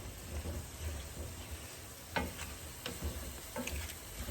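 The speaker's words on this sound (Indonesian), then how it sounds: "Bumbunya kita aduk sampai wangi ya." Rendang spice paste frying in a pan and being stirred, a steady close sizzle broken by occasional scrapes and taps of the spoon.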